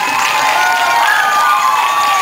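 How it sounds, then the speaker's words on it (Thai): Crowd at a press event for The Trainer 4 in Thailand cheering and clapping, a loud, steady wash of applause and shouts close by, filling the whole moment without a break. "ต้องขอเสียงปรบมือให้กับเทรลเลอร์ทัพโต้ของเรา แรงๆหน่อยครับ"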